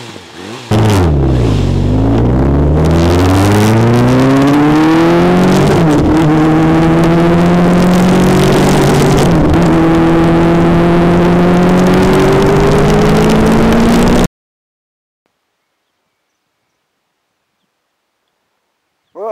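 Kawasaki ZX6-R 2012 sport motorcycle fitted with an Akrapovic silencer, its engine revving loudly and close in repeated rising and falling sweeps for about thirteen seconds, then cutting to silence.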